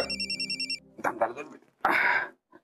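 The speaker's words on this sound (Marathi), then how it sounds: "सिंधूचा फोन आहे." A home telephone rings in a Marathi TV serial scene, a warbling electronic trill in short repeated pulses at the start, then conversation takes over.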